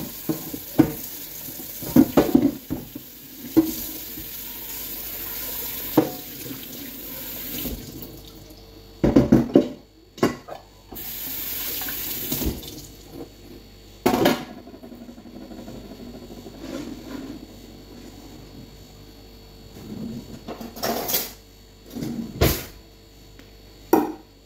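Tap water runs and splashes while rice is washed for a Filipino sticky rice pudding, with bursts of gushing flow broken by sloshing, stirring and clattering of the grains in a bowl.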